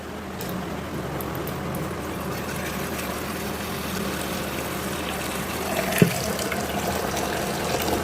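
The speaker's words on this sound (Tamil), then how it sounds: "அதுக்கு தண்ணி கொஞ்சம் லைட்டாக பிடிக்கணும்." Kitchen tap running water into a vessel for cooking before making roti dough, a steady, moderately quiet gushing stream with a single brief knock partway through, no talk.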